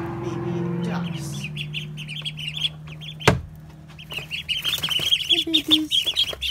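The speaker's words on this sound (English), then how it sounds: "if you could hear the whole time the chirping, it is because of our baby ducks" Baby ducklings a week and two days old peep steadily in repeated high chirps, fairly near, with a short bump partway through and lower-pitched noises underneath.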